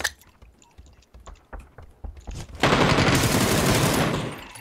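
Rapid bursts of gunfire in a multiplayer shooter game, scattered single shots at first, then a sustained loud barrage of automatic fire filling the second half.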